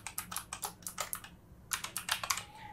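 Typing on a computer keyboard, with rapid bursts of crisp keystrokes, a brief pause midway and then another quick run of keys, close and clear, with no talking.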